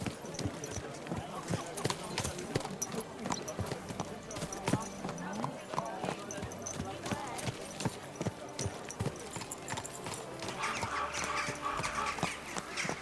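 Steady clip-clop of horse hooves on a hard surface in the video game Kingdom Come Deliverance 2, continuous and rhythmic, mixed with busy background chatter and voices throughout, including a market trader calling out wares.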